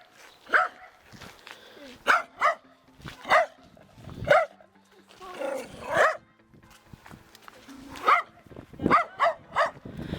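A dog barks repeatedly in short sharp bursts, sometimes in quick pairs and triplets, close and loud with brief pauses between.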